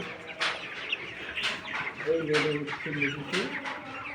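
Chickens cluck in short repeated bursts close by, with a few louder squawks, while a person talks softly in the background.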